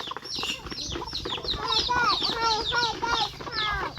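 Several chickens cluck and cackle nearby in a busy, overlapping chorus, growing livelier after the first second, with faint background noise.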